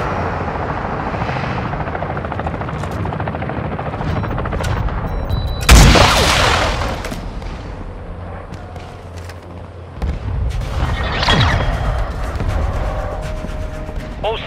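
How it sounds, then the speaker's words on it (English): Mortar strike explosions in Call of Duty: Modern Warfare II: a steady helicopter-like rotor drone fills the scene, broken by a loud blast midway and a second, rumbling explosion a few seconds later. "Hostile mortar strike near your position."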